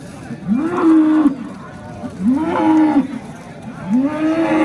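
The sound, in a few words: cow at a livestock market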